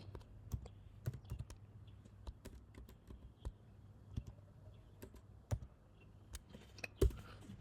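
Someone types on a computer keyboard while entering a web address in a browser, making sparse, irregular clicks and key taps that stay fairly quiet and close, over a low steady hum.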